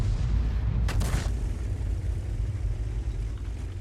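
An artillery shell fires in a tank video game: one sharp boom lands near the start over a continuous low engine rumble that carries on afterward.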